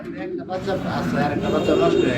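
Pigeons cooing in a cage, a pair of short-face pigeons, with a steady close murmur of soft coos throughout, while people talk nearby.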